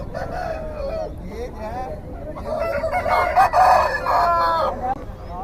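Roosters and hens at an open-air country chicken market in Nallapadu crow and cluck together in a busy, overlapping din, with a loud crow swelling in the middle amid steady background chatter.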